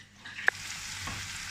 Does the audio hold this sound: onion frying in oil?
yes